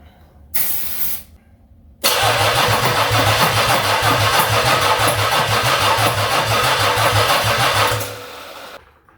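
A 1982 Oldsmobile 4.3 V6 diesel engine, long left sitting, cranks and catches on ether after a brief burst of hiss, then runs roughly with a loud, steady pulsing chug before cutting off.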